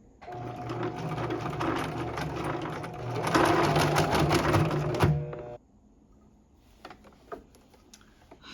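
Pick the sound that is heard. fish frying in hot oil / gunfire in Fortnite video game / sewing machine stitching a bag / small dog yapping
sewing machine stitching a bag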